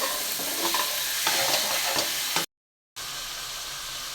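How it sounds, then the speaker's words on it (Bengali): Onion, green chilli and tomato sizzle loudly in oil left over from frying fish, with a hissing fry and stirring scrapes, broken by a short dropout before the sizzle resumes. "মাছ ভাজা তেলের মধ্যে পেঁয়াজ, কাঁচামরিচ আর টমেটো দিয়ে দিলাম, একটু ভেজে নিই।"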